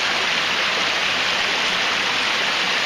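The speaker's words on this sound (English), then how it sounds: "Pretty decent little waterfall." A small waterfall about 12 to 14 feet high on Buck Branch, above the Tellico River, roars in a constant dense rush of falling water, loud and close with no pauses.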